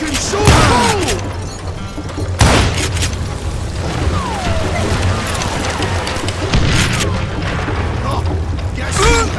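Dynamite explosions go off in the Western shooter game Call of Juarez: Gunslinger, with several heavy booms and crashes amid gunfire and in-game shouting, loud and close throughout.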